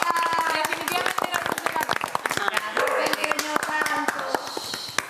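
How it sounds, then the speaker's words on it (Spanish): Housemates on the reality show Gran Hermano Chile clap together indoors, a quick, uneven run of sharp, close claps that continues throughout, with voices talking over it. "Un aplauso para la Cati."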